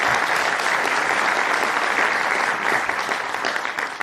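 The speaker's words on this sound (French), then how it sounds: "Vous pouvez applaudir Claire Niclot." An audience at a French conference applauds in a dense, steady wash of clapping that holds for several seconds before thinning slightly at the end.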